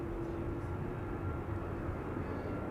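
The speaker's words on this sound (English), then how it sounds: "This is 747-400, 26 years old, first flight December 1998. Coming in for the center runway." A 26-year-old Boeing 747-400 airliner comes in to land on the center runway at Amsterdam Schiphol, a steady, loud broadband engine roar with a low hum that holds evenly for a few seconds, with no speech.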